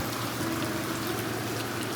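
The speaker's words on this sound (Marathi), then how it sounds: "पाऊस लागतोय" Rain falls steadily during monsoon weather in the Konkan countryside, an even wash of patter that stays constant throughout without any talk.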